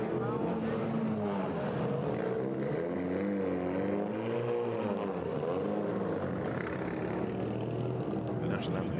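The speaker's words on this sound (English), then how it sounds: "the backdrop is of noisy touring cars that have arrived in the pit lane here" Lamborghini Super Trofeo touring race cars idle and rumble in the pit lane at Zandvoort, a steady, loud engine drone with shifting tones that fills the whole stretch without pause.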